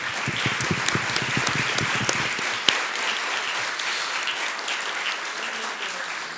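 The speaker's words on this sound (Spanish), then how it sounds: "les pido que les demos un gran aplauso" A lecture-hall audience applauds after a talk, starting with distinct sharp claps that quickly merge into a dense, even patter, fairly close and continuous.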